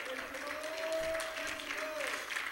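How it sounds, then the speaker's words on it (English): Congregation clapping unto the Lord in a Sunday service, a soft continuous patter of many hands at a distance beneath a sustained sung or intoned voice. "Let's clap unto the Lord"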